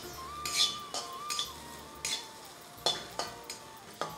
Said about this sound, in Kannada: ಈಗ ನಾವು ಹಸಿಮೆಣ್ಸಿನ್ಕಾಯಿ ಫ್ರೈ ಆಗೈತ್ರಿ ಈಗ ಇದ್ರಾಗ